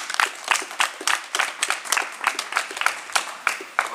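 A small cabaret audience claps for a rapper; the hand claps are distinct and fairly close, coming in a loose, pulsing rhythm that holds steady from start to finish.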